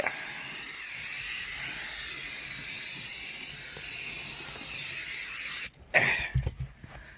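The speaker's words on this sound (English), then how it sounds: "So it's just a case of giving everything a good spray." A long, continuous hiss of aerosol brake cleaner spraying runs for several seconds, then cuts off, followed by a few faint handling clunks.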